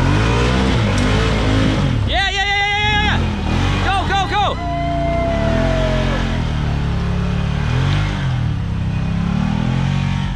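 A Kawasaki KRX side-by-side rock crawling on a trail gives a couple of short, sharp engine revs in quick succession, then settles to a steady drone under ongoing background noise.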